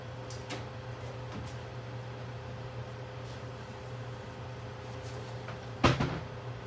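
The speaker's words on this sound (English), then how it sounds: "you're just like kind of opening up doors" Kitchen cupboard doors being opened and closed, a single sharp clack near the end standing out over a steady hum of appliances, with faint knocks earlier.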